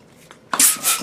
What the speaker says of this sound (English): Take two more balloons and inflate them all the way.